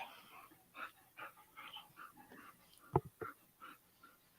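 A dog whimpers and whines in a series of short, soft cries with breathy snuffles, fairly faint and nearby.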